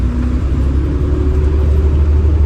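An AEC Merlin bus engine rumbles loud and close in a steady low drone, with a faint rising tone as it pulls after a gear change into second, no voices over it.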